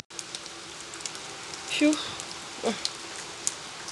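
Heavy rain pours steadily outside in summer, a dense close hiss of drops on surfaces with occasional louder splashes and patters, while a person briefly exhales nearby.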